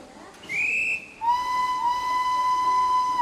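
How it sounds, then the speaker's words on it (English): A train guard's whistle blows twice, a short shrill blast followed by a long, steady, clear tone that holds to the end, sounding moderately close over faint background. "And as soon as the guard's whistle blew"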